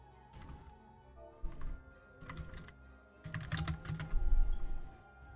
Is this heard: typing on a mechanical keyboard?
yes